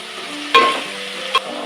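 Eggplant pieces dropped onto fried onions in a hot pan for vangibath gojju, giving a steady sizzle with two sharp bursts of frying as the vegetable goes in, no voices.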